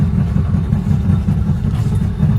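A Mazda engine runs steadily nearby, a loud, constant low rumble with slight clattering texture and no talk.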